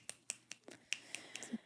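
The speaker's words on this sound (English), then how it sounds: "Snaps and claps to that." A run of about eight crisp finger snaps at an uneven rhythm, close and fairly quiet, with no talking over them.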